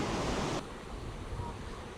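Choppy whitewater river rapids rush as a broad, steady hiss, with wind buffeting the microphone loudly at the start before easing.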